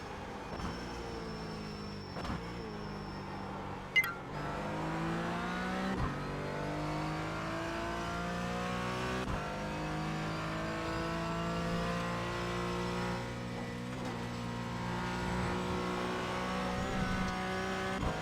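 Race car engine in iRacing under heavy braking with downshifts: falling revs punctuated by sharp blips, then repeated climbs in pitch as it accelerates through the gears, a close continuous roar with no voices.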